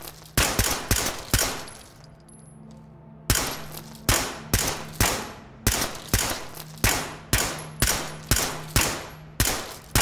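Machine gun firing in the video game Ready or Not: loud, sharp shots repeat at a steady clip of about two per second, with a short pause after the opening burst, and no voices.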